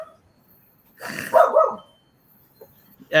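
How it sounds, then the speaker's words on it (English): Dogs bark in one close, loud burst of a few yaps, followed by quieter scattered noises and a brief sound at the very end. "The dogs are coming. Dogs are coming."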